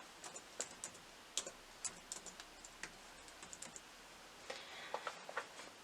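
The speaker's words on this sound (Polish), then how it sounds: "zatwierdzamy klawiszem Enter" Keys clicking on a computer keyboard during a beginners' computer class, a quiet, irregular run of light taps spread over several seconds with a small flurry near the end, no voices.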